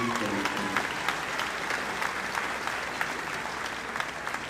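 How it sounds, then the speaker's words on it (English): Steady applause from an audience at a high school graduation ceremony's academic awards presentation, a broad wash of many hands clapping, moderately distant, with a voice briefly heard at the start. "a nice round of applause for Mr. Dizell and Mrs. Jameson."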